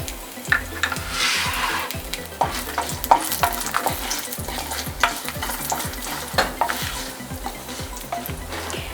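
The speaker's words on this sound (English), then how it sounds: "Now we'll add our red chilies." Red chilies hitting hot oil in a pan for a South Indian keto mor kali, a crackling sizzle with repeated stirring scrapes and clinks in a regular rhythm, close and fairly loud, no talking.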